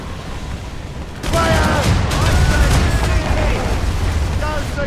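Cannons on a sailing ship fire in Assassin's Creed Rogue. A sudden loud boom is followed by sustained rumbling gunfire and crackling blasts, with shouted voices faintly over the din.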